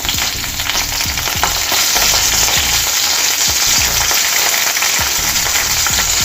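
Green chillies, curry leaves and ginger paste sizzle and crackle steadily in hot oil, loud and close, with a spoon stirring through the pan at intervals and no talking.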